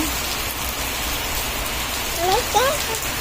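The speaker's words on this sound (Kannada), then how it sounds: "ಇವತ್ತು ಮಧ್ಯಾಹ್ನ ಟೈಮಲ್ಲಿ ಮಳೆ ಬರ್ತಾ ಇದೆ." Steady afternoon rain falls outdoors as an even, close hiss of drops on surfaces, with a few brief chirps rising over it near the end.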